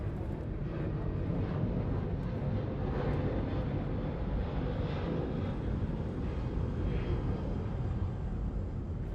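Airliner engines at Los Angeles International Airport as a broad, steady low roar that holds evenly throughout, with faint wind buffeting and no voices.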